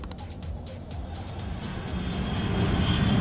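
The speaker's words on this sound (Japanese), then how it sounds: "地鳴りっていうか飛行機みたいな。" A low, steady airplane-like rumble in the Persona 5 Strikers video game, swelling gradually louder over a few seconds with no voices.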